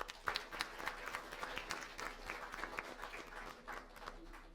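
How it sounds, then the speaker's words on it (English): Audience applause at a luxury-industry symposium panel in Delhi: dense, sustained clapping from a crowd that holds steady for several seconds without letting up. "Let's once again give a huge round of applause"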